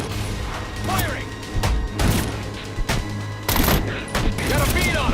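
Bursts of gunfire from the Batman Arkham Origins video game, rapid volleys and single shots crackling through a busy game mix, with in-game voices calling out over the shooting.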